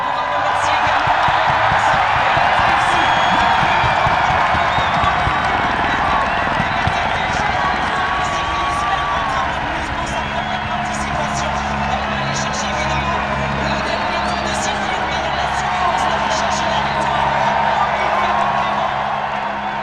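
A large outdoor crowd cheers and shouts steadily at the Paris-Roubaix Femmes cycling finish, a loud continuous roar with scattered whoops and whistles and indistinct voices throughout.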